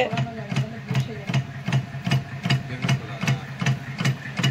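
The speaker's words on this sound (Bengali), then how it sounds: "দেখুন মোটর ঘুরছে, ফাটানোর মোটর, আর এখানে ফাটানো হচ্ছে" Batasa machine motor running while beating sugar syrup into foam, a rhythmic mechanical thumping repeating about twice per second over an engine-like hum.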